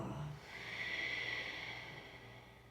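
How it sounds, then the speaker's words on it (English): A long, steady exhale of deep breath through the nose during a beginner yoga practice, a soft continuous hissing breath close to the microphone lasting the whole moment without speech. "Long deep breath in through the nose. And exhale."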